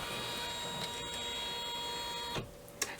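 An embroidery machine stitching an outline on fabric backed with embroiderer's felt, a steady close mechanical whirr with a tonal hum and a few small clicks near the end.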